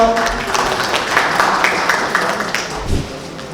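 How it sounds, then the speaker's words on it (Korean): An audience at a Busan-Ulsan-Gyeongnam megacity forum applauds to welcome a speaker, a moderate sustained clapping that fades toward the end with some room noise. "여러분 큰 박수로 환영해 주십시오"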